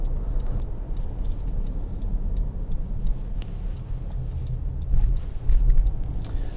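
A 2015 Honda CR-V's turn signal ticks steadily inside the cabin, its regular clicks riding over the low rumble of road and engine noise while driving.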